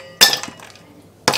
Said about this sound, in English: Then I like to take a few ice cubes.